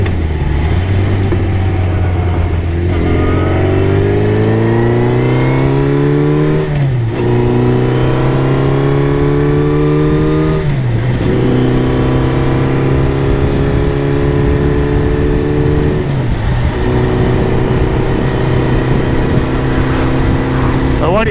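A motorcycle engine pulls hard while being ridden, climbing through several gears in rising whines that are cut by short drops at each shift. The sound is loud and close, and faint talk sits under it.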